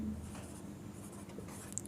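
Chalk or pen writing on a board or paper during a Class 9 geometry lesson, a steady scratchy rasp running the whole time with a faint voice at the start.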